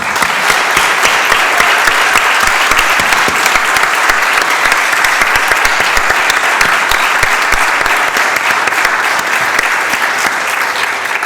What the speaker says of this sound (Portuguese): eu peço o vosso sentido salva de palmas para o Mário Ferreira e para o Pedro Romano.